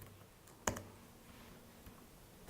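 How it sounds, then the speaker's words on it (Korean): A single sharp keypress on a computer keyboard, confirming a save while setting up a web server on a Raspberry Pi, with one crisp click followed by faint quiet room tone. "Y 누르고 엔터 누르고 저장했으면은"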